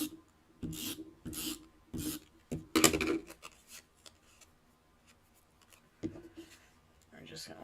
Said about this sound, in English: I think I'm going to use a tape runner on this.